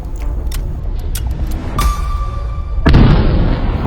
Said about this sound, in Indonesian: langit Timur Tengah yang gelap pecah oleh suara raungan rudal dan dentuman ledakan